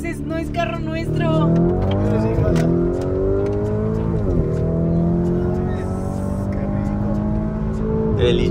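A heavy Lamborghini Urus Performante SUV launches hard, its engine a loud, steady, rising roar that climbs through gear changes, with people talking over it inside the cabin.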